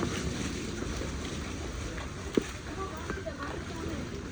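Steady rushing wind noise of a storm with rain buffets the microphone throughout, with a broad wet hiss and a brief sharp knock partway through.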